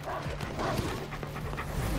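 Dogs in the video game Final Fantasy VII Remake pant and yip in short, busy bursts, fairly close and loud, over a steady game soundscape.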